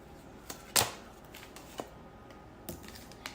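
Tarot cards handled in a quiet room: a few soft, brief shuffling riffles and flicks, one sharper burst as a card slips loose and drops, then scattered light taps, close and otherwise calm.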